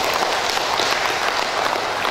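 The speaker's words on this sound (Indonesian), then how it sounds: "mari kita tepuk tangan" Audience applause fills a formal Indonesian civil-service gathering, a dense, steady wash of many hands clapping at once, sustained and fairly loud throughout with no pause.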